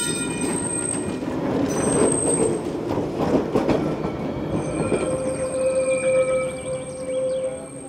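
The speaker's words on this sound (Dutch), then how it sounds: "Deze Rotterdamse motorwagen uit 1931 rijdt sinds 1996 over de Arnhemse museumtramlijn." A 1931 Rotterdam tram motor car running on the Arnhem open-air museum line rumbles along the rails with clacking wheels, then sustained high wheel squeal rings out over the steady loud rolling noise.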